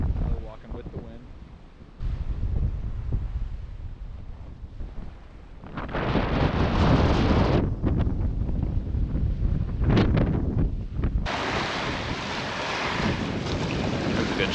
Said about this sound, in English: Good strong gust.